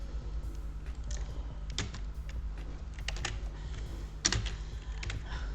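Fingers tapping on a computer keyboard in quick irregular bursts, close and crisp, with short pauses between runs of keystrokes over a low steady room hum.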